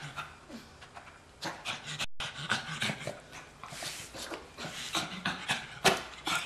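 A small puppy pants in quick bursts up close, with breathy huffs and a faint whimper, mostly alone with little talk.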